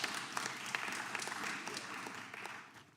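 Members of a House Judiciary Committee markup clap together to welcome a new colleague, a fairly faint, even burst of applause across the hearing room that tapers off near the end.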